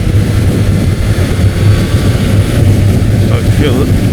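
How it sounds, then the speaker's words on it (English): A Suzuki GSX1300 motorcycle engine runs on the road as the bike is ridden, giving a loud, steady low drone mixed with constant wind rush and no clear rise or fall in revs. "Let it rev a bit, get the exhaust temperature up a bit."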